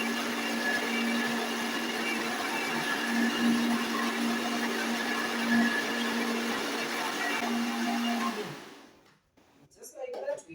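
Electric blender whirring steadily as it blends oranges and water into juice, a loud constant motor hum running about eight seconds before winding down, followed by faint handling clatter.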